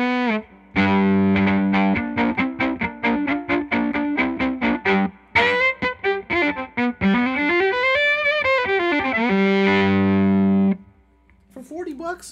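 Violin played through a Bunnel Heavy Metal distortion pedal, a loud, buzzy, saturated tone with quick repeated bowed notes, then a sliding wavering line and a sustained note before cutting off; no talking over it.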